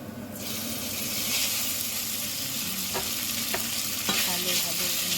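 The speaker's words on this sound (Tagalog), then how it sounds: "Halo-haloin na natin." Black noodles stirred with garlic in a hot pan, a steady loud sizzle and frying hiss with a few sharp scrapes of the utensil against the pan.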